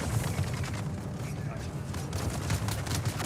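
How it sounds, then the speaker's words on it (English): Machine gun fire in the Dune video game: a dense, steady clatter of rapid shots under continuous battle noise, with a voice speaking over it. "Someone just got gunned down in front of me."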